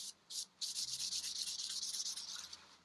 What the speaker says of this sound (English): I'm using a combi buffer, and that's because it is so fine